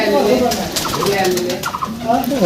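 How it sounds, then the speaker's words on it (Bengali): Pigeons in a loft give a few low, soft coos and murmurs, close by and overlapping one another across a short stretch, with light rustling and a dense background of other birds. "আরেকটা নতুন কবুতর আছে যেটা কালেক্ট করা হয়েছে"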